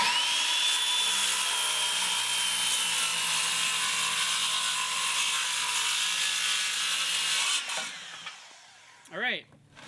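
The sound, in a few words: Hitachi circular saw ripping a board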